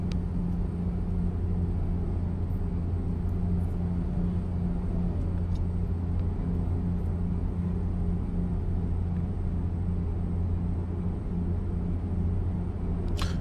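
A truck engine in the driving game Freight Driver drones steadily, a constant low rumble with no change in pace, heard alone without talk.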